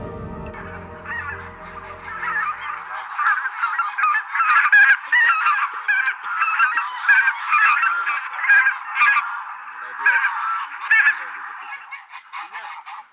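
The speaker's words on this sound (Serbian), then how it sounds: "Divlje guske se najčešće love u preletu, odnosno krajem dana, kad se sa polja vraćaju na vodu." Wild geese honking repeatedly as a flock passes over a wetland at the end of the day, a dense stream of calls that builds to loud overlapping cries and then eases slightly, with no talk.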